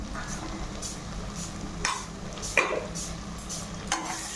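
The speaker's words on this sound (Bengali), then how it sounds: "লঙ্কা বাটাটাকে ভালো করে মিক্স করে নেবো" Chili paste is being stirred into spices frying in oil, giving a steady close sizzle with a few distinct scraping strokes of the spoon and no voices.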